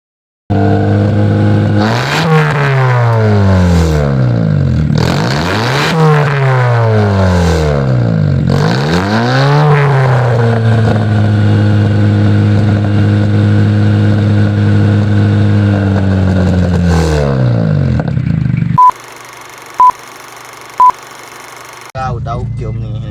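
Honda Jazz 2010 engine after a tune-up, rising and falling through repeated loud revs before settling to a steady idle-like drone in third gear, followed by a few short beeps, no talk.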